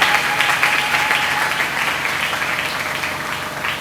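A church congregation claps at a worship service, a dense and loud burst of applause from many hands that holds steady throughout, with a faint voice underneath.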